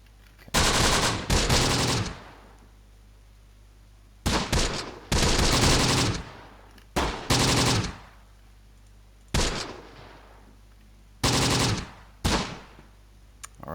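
Machine gun fire in a Close Combat World War II strategy game: several loud, separate bursts of rapid shots, each lasting one to two seconds, with quiet gaps between them.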